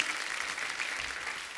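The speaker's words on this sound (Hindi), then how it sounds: "पहले तो जोरदार तालियां।" Studio audience applause on The Kapil Sharma Show, a steady wash of clapping holding at an even level throughout the short stretch with no talk over it.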